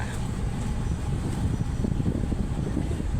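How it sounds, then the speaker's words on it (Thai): Boat crossing over to Tha Chalom with a low, continuous engine and water rumble mixed with wind buffeting the microphone, steady throughout. "ก็จะข้ามเรือ"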